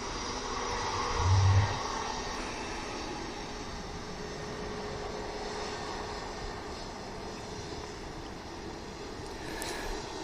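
An airliner takes off at Manchester Airport, its engines making a steady, broad roar that swells slightly near the start and then holds at an even level for the rest of the stretch.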